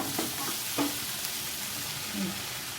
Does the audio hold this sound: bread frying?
yes